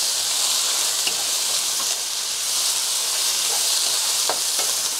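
Sliced mushrooms sizzle and hiss in a pan with browned garlic during a stir-fry, a steady bright frying crackle with occasional soft stirring scrapes.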